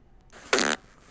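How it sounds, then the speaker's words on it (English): A short, buzzy fart blown right into a phone microphone, a quarter-second burst that sounds close and clipped, with quiet room tone around it. "You're just farting into your phone?"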